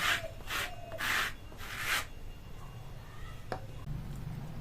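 Soaked dried red chillies are ground by hand on a grinding stone, with three or four rhythmic scraping strokes close up, followed by quieter shuffling and a single sharp knock.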